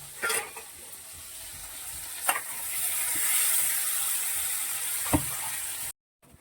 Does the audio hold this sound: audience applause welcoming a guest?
no